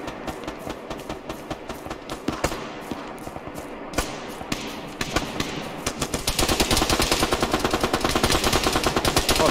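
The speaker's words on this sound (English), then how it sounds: "he was shooting me with an MG42" MG42 machine gun fire in the video game Arma 3, with scattered single shots and bursts early on that build into a long, continuous rapid-fire stream, loud and close, with no talking.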